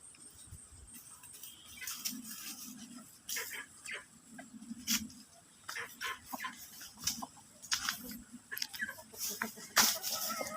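Fighting roosters cluck and squawk in short, scattered bursts close by, with brief sharper calls standing out against a quiet rural background, each sound separated by a short pause.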